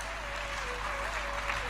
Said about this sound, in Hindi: ताली बजाने का मन करे जोर से बजाओ